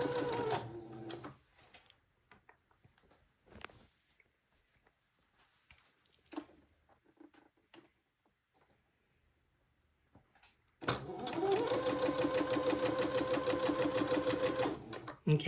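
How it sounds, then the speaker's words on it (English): A sewing machine runs basting stitches along a day gown's seams, starting loud and steady partway through after quieter fabric handling and small clicks, then sewing continuously at an even pace. "a couple of minutes to sew these basting stitches"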